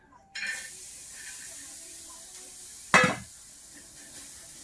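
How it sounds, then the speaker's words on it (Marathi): Masala with coconut and sesame seeds roasts in a hot pan, a soft continuous sizzle with light stirring and one sharper, louder hiss partway through, all close by. "असा मसाला भाजते बघा"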